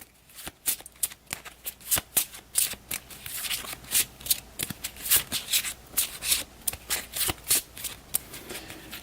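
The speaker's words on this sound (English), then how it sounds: "I'll give the events a quick shuffle." Paper event cards for a B-17 Flying Fortress board game are shuffled by hand, a close, steady run of crisp riffling snaps and soft slides lasting several seconds.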